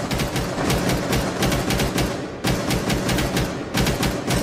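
Steady bursts of automatic gunfire in a video game, loud and near, rattling in rapid repeated volleys that break off briefly and start again.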